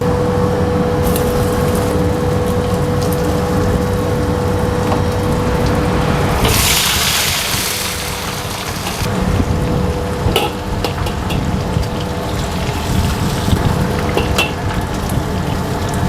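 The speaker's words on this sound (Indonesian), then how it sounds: "Sekarang gue mau masukin bawang putih dan bumbu EXO." Garlic and spices going into hot oil in a large pan for a street-style fried rice batch, sizzling steadily and loudly, briefly surging into a bright hiss then settling back to a continuous crackling fry.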